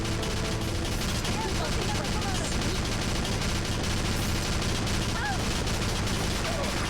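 Machine gun fire from an MG nest in the video game Battalion Wars pours out as a dense, continuous rattle of shots layered with battle noise, loud and unbroken from start to finish.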